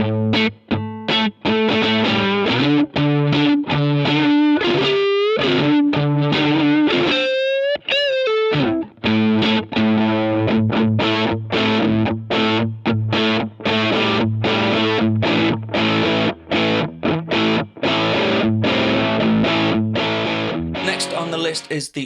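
Electric guitar played through a Designer's Drive overdrive pedal, with distorted chords and single-note riffs, a few bends and pauses, loud and close throughout.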